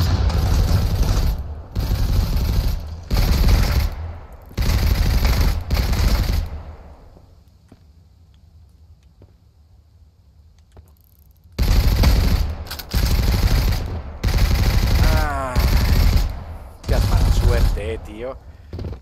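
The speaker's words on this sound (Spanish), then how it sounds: "Me están disparando todos." Gunfire in the foggy survival game Mist Survival: loud bursts of automatic fire come in quick repeated volleys, stop for a few seconds of near quiet, then resume in several more rapid bursts, with someone talking at times.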